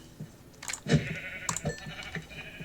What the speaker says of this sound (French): Il y a des moutons, on va pouvoir tout de suite les tuer pour se faire un lit plus tard.